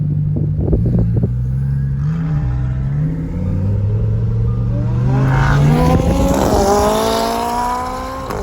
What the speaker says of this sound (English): That Lambo is fast.